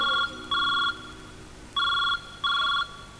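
A telephone rings in three-and-a-half electronic bursts, each about half a second long with short gaps between them, loud and close with no talking over it.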